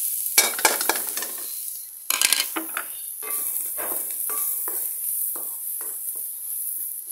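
Carrots are stir-fried in a pan for fried rice: a spatula scrapes and tosses in repeated bursts over a continuous hot sizzle, heard up close.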